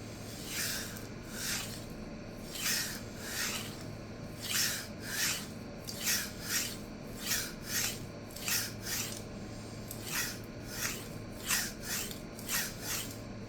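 A 52100 steel chef knife is deburred on a resin-bonded diamond stone, giving steady rhythmic rasping strokes, about a dozen evenly spaced passes, soft and close.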